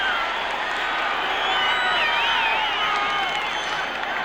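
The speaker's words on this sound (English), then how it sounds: "listen to this crowd. They are really pumped up now." A pumped-up crowd in a Detroit Lions football stadium during a 1979 game against the Redskins, a dense sustained roar of cheering and whistles filling the space, with no clear single voice.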